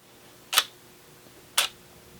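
A camera shutter held open for a one-second exposure: two crisp, close mechanical clicks spaced about a second apart against a quiet room.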